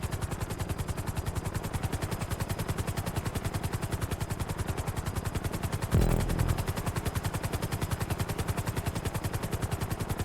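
Supervolito helicopter flying in GTA 5 Online, a steady fast rotor chop with a rhythmic thumping pulse throughout, loud and close, with a brief louder swell midway.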